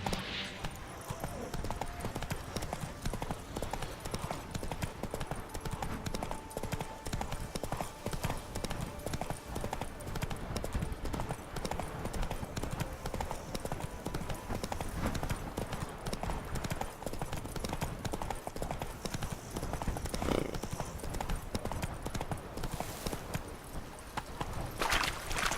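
Hooves of Roach, a horse in the video game The Witcher 3, clip-clop in a steady, continuous gait throughout, close and fairly busy, with a brief whinny-like accent along the way.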